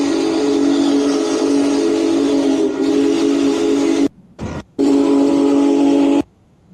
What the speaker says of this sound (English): You know big boys whistle in real life sounds like, Diego?